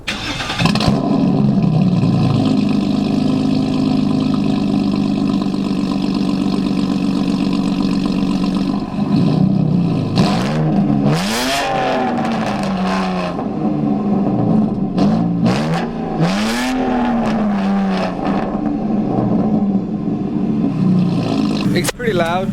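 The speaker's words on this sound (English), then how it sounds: "I think I'm gonna add an exhaust clip for you guys," A warmed-up BMW E90 exhaust drones loudly at idle, then roars through several sharp throttle blips that rise and fall in pitch, each rev close and forceful before settling back.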